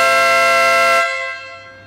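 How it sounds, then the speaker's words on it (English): A Stebel Nautilus air horn fitted to a Vespa GTS sounds one loud, brassy, truck-like blast lasting about a second, then rings out as it fades. "we've got the Stebel Nautilus air horn"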